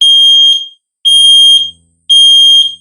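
A ZEN smoke alarm in test mode emits three loud, piercing beeps about a second apart, each held for half a second, close to the listener with nothing else heard.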